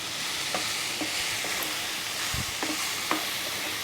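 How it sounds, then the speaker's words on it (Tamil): Vegetables for Schezwan noodles sauté over high heat in a hot pan, a constant frying hiss broken by regular scraping stirs and a soft thud or two, with no talking. "எல்லாத்தையும் ஒரு 2 நிமிஷம் மட்டும் வதக்கணும்"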